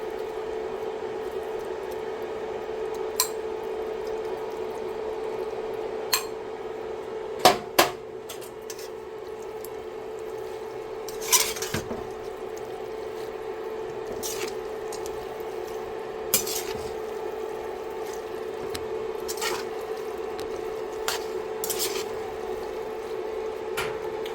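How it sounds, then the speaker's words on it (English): Shrimp going into a pan of white wine scampi sauce, a steady low simmering hum punctuated by scattered clinks and taps of utensils against the pan, fairly quiet and without talk. "So now we're going to go ahead and add those shrimp."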